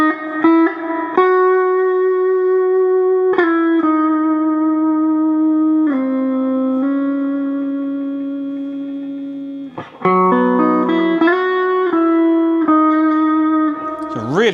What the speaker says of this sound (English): Maybe even 5 before the reverb becomes kind of too much.